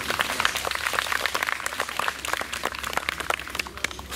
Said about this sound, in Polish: Pewnie, pewnie, dużo brawa.